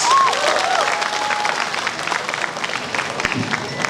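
A student audience at a college business talk event applauding the judges, loud, busy clapping with a few whoops and a faint murmur of voices mixed in.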